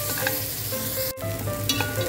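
Close, loud sizzling of blended garlic and ginger frying in a hot pan, a constant crackling hiss with a brief clatter midway as it is stirred.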